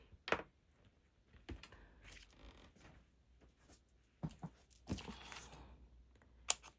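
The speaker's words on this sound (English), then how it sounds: "I need to cut my foam pad." A foam craft pad is cut down into a smaller square for a flower card, giving faint, sparse snipping and crunching clicks spaced irregularly in a quiet room.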